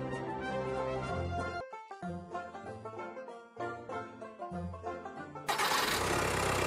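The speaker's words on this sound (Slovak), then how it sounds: "Dvojliter motor Boxer diesel s nízkym ťažiskom a dostatočným výkonom." A 2014 Subaru Forester 2.0D Sport with a two-litre boxer diesel cranks and starts, the engine note building in steady pulses before catching and settling into a loud, broadband run near the microphone.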